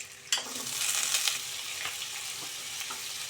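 Potatoes dropped into hot white oil in a wok, starting with a sudden loud sizzle that settles into a steady crackling fry with light stirring.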